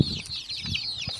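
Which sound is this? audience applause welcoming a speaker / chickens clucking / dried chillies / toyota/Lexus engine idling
chickens clucking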